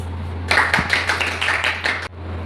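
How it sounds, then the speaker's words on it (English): A round of applause from an audience at an event held by a free English, computer and digital marketing school for girls, a steady burst of many hands clapping that lasts about a second and a half before stopping, with no voices over it. "Please welcome them with a big round of applause"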